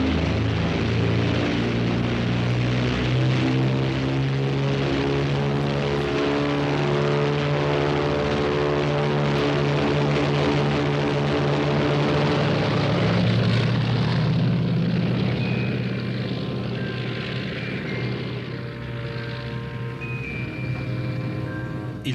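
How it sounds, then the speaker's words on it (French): Propeller airplane engine drones loudly and steadily close by for a long stretch as it takes off from an Arctic setting, the pitch wavering slightly and the roar easing a little toward the end. "Ce n'est que le 10 juillet que le pilote Chouknovski peut enfin décoller."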